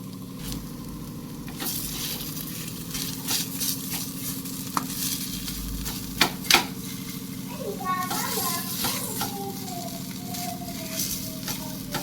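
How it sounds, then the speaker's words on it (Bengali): New potatoes sizzle steadily in a hot pan for aloo chop, broken by a few sharp scrapes of a spatula, while children's voices chatter faintly in the background. "একটু ভেজে নিচ্ছি আলুটা"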